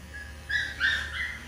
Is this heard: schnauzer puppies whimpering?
yes